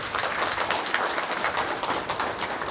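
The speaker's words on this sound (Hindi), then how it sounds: "ताली बजते रहनी चाहिए।" Brisk crowd clapping after Mass at a rural Catholic church felicitation of bishops and priests, a dense, fairly loud patter with individual claps popping through.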